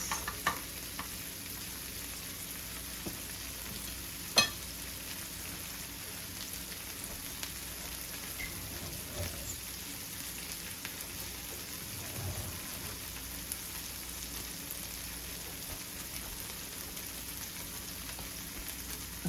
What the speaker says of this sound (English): Nice and buttery. Let them fry for about 3 minutes.